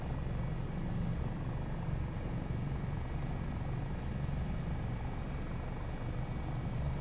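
An AS365 N2 Dauphin helicopter in flight, heard from the cockpit as a steady, dense rotor and turbine roar that stays loud and unbroken throughout, with no speech.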